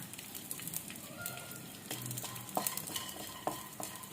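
Leftover chapati pieces fry in ghee in a pan, giving a steady low sizzle with scattered stirring scrapes and clicks, heard alone at a moderate distance.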